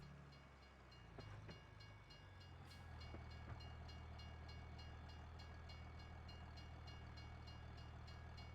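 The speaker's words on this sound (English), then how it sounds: "There goes the train right there," Train passing in the Farming Simulator video game, a low steady rumble of the rolling train with faint repeated wheel clicks and a brief tonal horn-like sound near the start, fairly distant and unaccompanied by speech.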